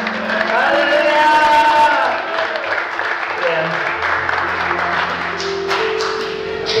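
Church congregation at a New Year's Eve service applauding, a dense wash of clapping for the first couple of seconds that fades as a voice speaks over it and low organ or keyboard tones sustain.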